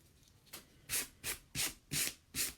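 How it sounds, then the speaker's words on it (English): Wooden edges are sanded by hand, a sequence of about five soft rasping strokes in a steady rhythm, close and fairly quiet, with no talking. "So I'm going to sand the edges"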